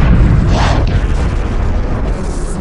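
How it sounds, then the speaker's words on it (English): A Vega carrier blows up in the space strategy game Homeworld 2, a loud, dense boom that swells early and then rolls on as a sustained rumbling roar for the rest of the moment. "The Vega carrier has been destroyed."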